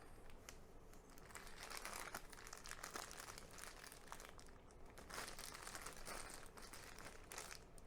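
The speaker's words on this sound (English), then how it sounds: "So I can take my bag and close that up." Plastic piping bag crinkling and rustling as it is handled and closed while icing pumpkin scones, a faint, continuous close-up crackle with no talk.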